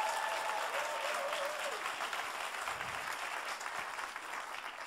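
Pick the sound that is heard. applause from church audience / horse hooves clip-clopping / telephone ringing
applause from church audience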